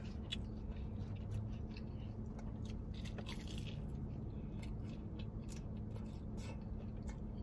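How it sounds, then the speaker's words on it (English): Crisp crunching from biting into a Taco Bell toasted cheddar chalupa, close to the microphone, repeating with chewing over a steady low background hum. "Y'all heard that crunch?"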